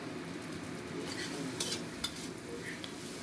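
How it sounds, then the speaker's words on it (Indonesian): Fried rice with egg is turned over in a frying pan on medium heat, with a steady sizzle and a few light scrapes and taps of the utensil, heard up close without talk. "saya campurkan semuanya, saya aduk-aduk jadi satu"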